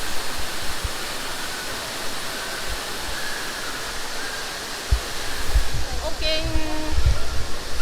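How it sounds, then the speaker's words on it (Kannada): Water rushes continuously from an indoor waterfall beside a mini jungle at Bangalore airport Terminal 2, a steady hiss with a few knocks and a brief tone near the end. "ಇಲ್ಲೂ ಅದೇ ಥರ ಮಿನಿ ಜಂಗಲ್ ಇದೆ ಆ್ಯಂಡ್ ವಾಟರ್ ಫಾಲ್ಸ್"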